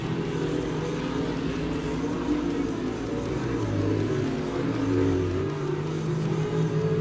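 Race cars lapping at Monett Motor Speedway during a feature race, with a continuous dense engine roar that swells and fades slightly as the cars pass.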